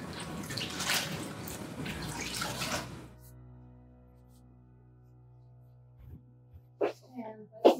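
A wet felted wool scarf squeezed to press out leftover soapy water, giving close watery wringing and dripping for a few seconds, then quiet with faint handling noises afterward.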